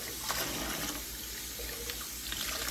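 Tap water runs steadily from a faucet into a sink while canning jars are rinsed inside and out, a continuous close splashing wash with no voices.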